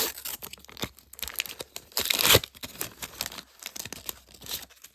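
Panini Foot 2005 sticker packets being torn open by hand, a quick run of crinkly foil rips and crumples, close and loud, with one sharp burst of tearing in the middle.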